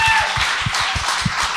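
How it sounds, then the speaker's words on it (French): A live audience at a Quebec comedy podcast taping applauds a guest in a dense, loud wash of clapping, with soft low thumps pulsing underneath. "Bonne main d'applaudissements à Yann Terriot"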